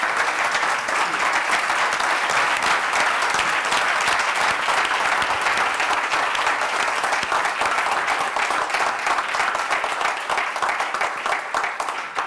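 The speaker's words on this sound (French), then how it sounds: "Je vais vous demander de les applaudir." An audience at a business conference in a chamber of commerce setting claps in sustained, dense applause that holds steady for over twelve seconds and tapers slightly at the end.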